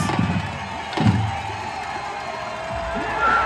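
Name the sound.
crowd cheering at mountain bike World Cup downhill finish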